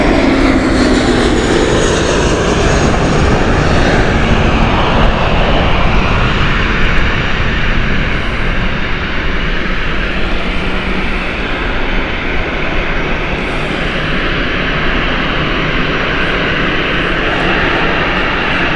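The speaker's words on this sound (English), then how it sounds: "Lufthansa joining the pack here for aircraft waiting to take off." Airliners taking off and landing at Gatwick Airport, a loud continuous jet engine roar that swells and slowly shifts over many seconds, heard from nearby outdoors with no talk.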